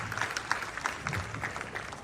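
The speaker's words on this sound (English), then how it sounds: "One clap, just one clap." An audience in a hall answers a call for a single clap, producing a brief spread of scattered, uneven hand claps at moderate loudness over a low room murmur.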